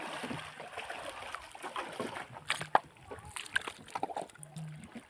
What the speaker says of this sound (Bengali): আমরা নৌকা নিয়ে কিন্তু বেরিয়ে পড়লাম মাছ মারার উদ্দেশ্যে